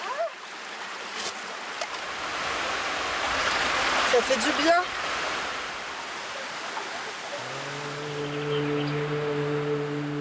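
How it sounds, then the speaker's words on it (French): Waterfall in the wild near a village, used as a makeshift shower, rushes and splashes as a steady broad wash of water with a voice speaking over it and a low tonal hum toward the end. "Cette cascade est la principale source d'eau du village voisin"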